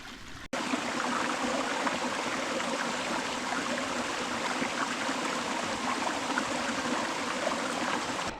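A mountain valley stream flows after rain, a broad steady rush of water that begins abruptly and then runs evenly and fairly close, with no talking.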